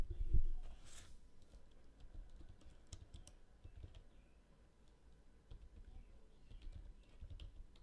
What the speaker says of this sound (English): I'm going to type this URL in